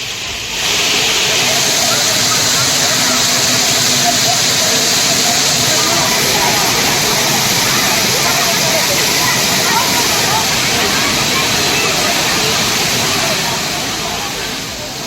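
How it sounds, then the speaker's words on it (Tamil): Thirparappu waterfall in Tamil Nadu, where tourists bathe under a reduced flow, gives a constant, loud broadband roar of falling water that runs unbroken throughout. "திருப்பரப்பு அருவியில் குவியும் சுற்றுலா பயணிகள் அருவியில் விடும் குறைந்த நீரிலும் குளித்து மகிழ்கின்றனர்"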